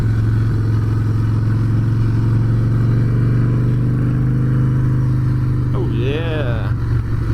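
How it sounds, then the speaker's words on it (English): A 2014 Harley-Davidson Softail Breakout with a 103 Twin Cam engine rumbles steadily while riding, a loud, continuous low throb with wind noise throughout, joined near the end by a brief rising whine. "This is your 2014 Harley-Davidson Softail Breakout. Rocking a 103 twin cam."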